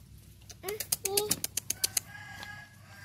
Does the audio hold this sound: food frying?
no